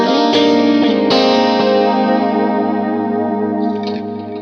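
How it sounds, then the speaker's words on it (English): A dreamy electric guitar tone from an effects unit: a couple of strummed chords ring out with a shimmering, chorus-like sustain and slowly fade, loud and alone. "Dreamy sounds are a type of guitar tone that I think sound like this."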